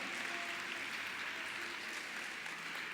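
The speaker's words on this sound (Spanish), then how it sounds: "¿Cuántos le pueden dar un fuerte aplauso al Señor?" A church congregation applauding during a Spanish-language devotional service, a steady, dense wash of clapping that fills the room at moderate level throughout, with no talk over it.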